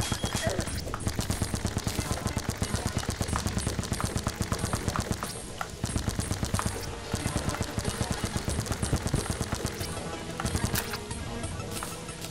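Rapid bursts of gunfire in the video game Terraria rattle through a boss fight, a dense run of sharp repeated shots over game music, with a player talking now and then.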